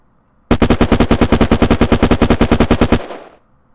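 Secondary machine gun in the video game Unturned firing one long, loud burst of about twenty evenly spaced rapid shots. A short reverberant tail fades after the burst.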